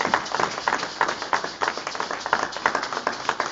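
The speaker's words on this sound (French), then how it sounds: "On acclame toujours pour Jésus." A church congregation claps steadily in rhythmic, evenly spaced beats, a dense and fairly loud round of applause with no voices standing out.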